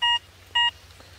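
Two short identical electronic beeps from a metal detector signalling a deep target, such as a nickel, evenly spaced about half a second apart, clear and alone over faint background hum.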